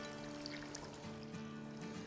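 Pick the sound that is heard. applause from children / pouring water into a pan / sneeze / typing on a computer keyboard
pouring water into a pan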